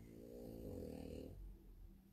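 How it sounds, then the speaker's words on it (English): A relaxed dog snores softly and close during nail handling, giving a low rumbling breath that swells and fades, faint and alone. "Can you guys hear her snoring"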